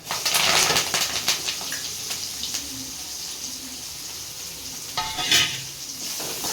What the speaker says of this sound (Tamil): சின்ன வெங்காயமும் கருவேப்பிலையும் போடுறேன்